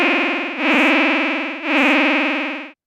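An FM synthesizer tone run through a low pass filter set around 3.8 kHz, playing two sustained buzzy, harmonically rich notes in succession, loud and clean with a slight ringing character.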